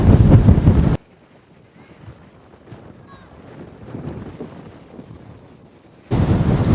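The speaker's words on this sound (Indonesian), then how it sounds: "Di atas juga anginnya kenceng banget ya" Wind blowing hard at a high lookout point in Japan, a low, steady rushing roar with gusts that swell and fade for several seconds between louder bursts at the start and end.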